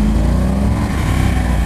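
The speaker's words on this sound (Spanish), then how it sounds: "Se siente desde ya el primer acelerón que digamos que la moto tiene bastante potencia, bastante torque también" A motorcycle with a full fuel tank and 17,618 km on the clock pulls away in a loud, close, continuous engine roar, a single sustained burst of acceleration with no voices.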